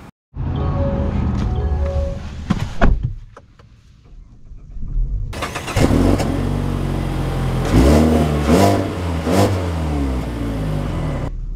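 A 2024 Mazda CX-30 crossover starting to drive off: a steady engine hum, a brief lull, then the engine rising as the car accelerates, with several gear-change dips and a sustained loud drone, heard from inside without talk.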